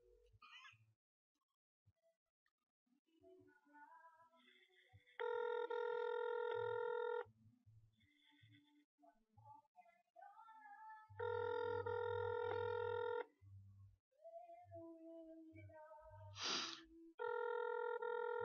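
A telephone rings repeatedly and goes unanswered, with steady electronic ring bursts separated by quieter gaps that hold faint tones and a cat's meow.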